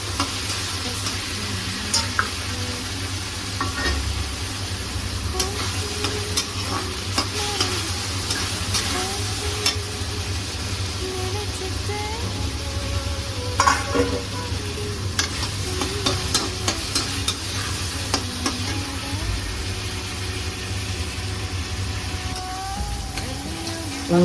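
Onions and tomatoes sauté in a pan for a traditional Tamil banana flower stir fry, with a steady sizzle and repeated scraping stirs of the spoon throughout, continuous and fairly close, with no talking.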